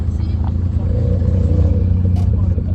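Volkswagen Golf GTI passing by on a road, its engine a steady low rumble close to the listener with some mechanical clatter, while people talk over it throughout.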